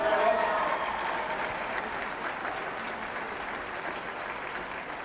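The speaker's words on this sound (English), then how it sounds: "so a huge round of applause" A crowd applauds at a Leinster Final in 2016 between Rosenallis and Bracknagh, a broad, even wash of clapping that fades slightly after a louder start and holds steadily, with talk running through it.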